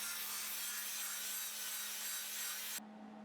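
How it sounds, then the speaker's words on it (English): A grinder fitted with a 40 grit flat disc cleans up metal on a dust collector build, a loud, close abrasive hiss that runs steadily and then cuts off abruptly near the end. "Just a little cleanup with the 40 grit flat disc."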